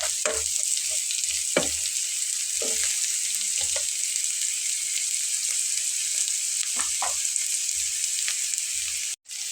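Onions frying with spices in a Bengali home kitchen, a soft steady sizzle throughout with occasional stirring scrapes and light clinks, close and moderately quiet with no voices.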